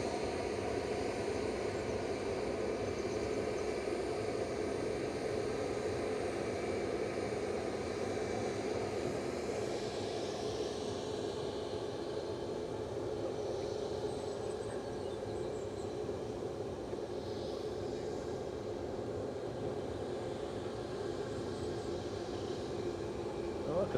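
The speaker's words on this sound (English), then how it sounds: "This is flight 5876, just about to come over the threshold." A Boeing 787-9 Dreamliner approaching to land at Manchester Airport, a sustained broad engine roar heard from the ground at moderate distance, steady and fairly loud with faint voices at times.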